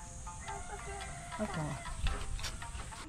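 A goat on an Okinawa island bleats a few times amid low rumbling outdoor noise, with people talking nearby.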